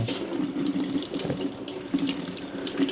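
Potatoes being rinsed under a running kitchen tap: a steady stream of water splashing into a sink, close and continuous, with small shifts in the splash as the potatoes are turned. No one speaks.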